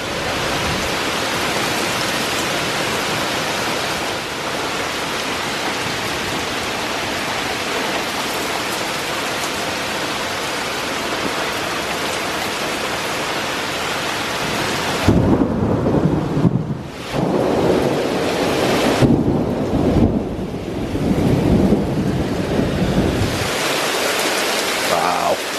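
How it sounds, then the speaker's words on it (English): A summer thunderstorm with heavy rain pours as a loud, steady hiss throughout, joined midway by deep rumbling thunder that rolls and swells in several bursts close by. "Now this is a thunderstorm that I remember as kids."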